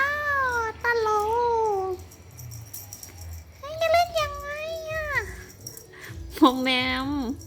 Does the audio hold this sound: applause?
no